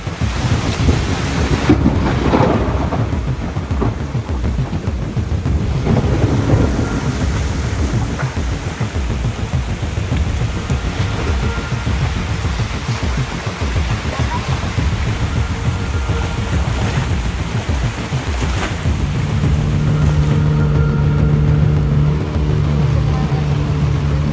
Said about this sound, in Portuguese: Começou a chover demais e o nosso barco parou